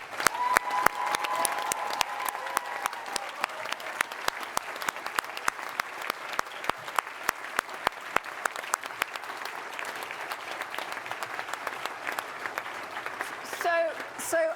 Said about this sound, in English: Can I clap you all again?